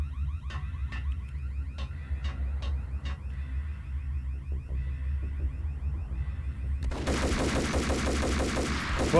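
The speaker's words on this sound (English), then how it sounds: "Who's shooting me?" Gunfire in the Max Payne video game: a string of sharp, separate shots rings out over a steady low rumble through the first few seconds, then a dense, loud burst of noise swells up and carries on to the end.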